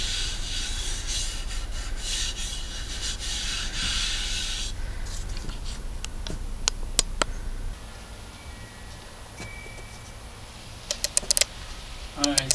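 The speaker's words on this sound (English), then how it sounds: "Give it a little bit more sanding." Steady rasping of sandpaper rubbing across a wooden cutting board, continuous for several seconds, then lighter scraping and a few sharp taps.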